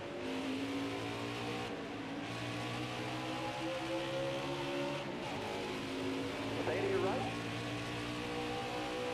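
Stock cars roar in a tight pack on the Indianapolis road course in NASCAR Heat 5, engines droning and shifting pitch continuously under steady race commentary.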